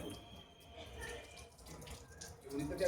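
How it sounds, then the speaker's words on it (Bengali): Cloth being rubbed and rinsed in running water during a yoga neti dhouti cleansing practice, a soft steady splashing and trickle close by. "কালো দিকটা কচলে কচলে ধুয়ে নিন।"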